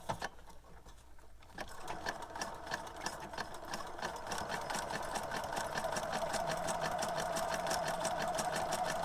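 Close, faint sewing machine stitching a wide zigzag over green and orange burlap leaf ribbon, starting up after a short quiet moment and then running with a steady rapid rhythmic chatter.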